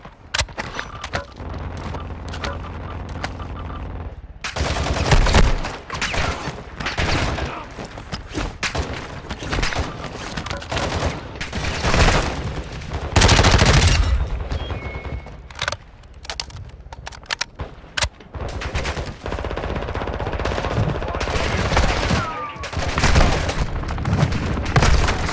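Rapid video game gunfire with repeated sharp shots, bursts and heavy booms that come thick and fast in close succession and keep going almost without pause.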